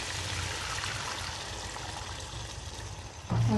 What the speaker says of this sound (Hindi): और 2 प्याली पानी भी डालनी है